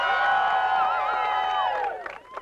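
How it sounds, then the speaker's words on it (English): A beach crowd at a tanning contest cheers and whoops loudly in a sustained, shrill swell of voices for contestant number one, fading near the end. "Let's hear it for number one."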